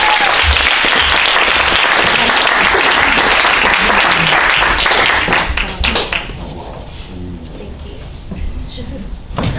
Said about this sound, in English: give a huge round of applause to Jamie Close